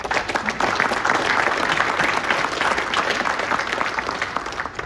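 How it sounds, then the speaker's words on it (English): Audience applause for the hosts at an evening golf association awards dinner, steady and dense dry clapping throughout, fairly loud and close, with no talk over it. "How about another round of applause for our hosts?"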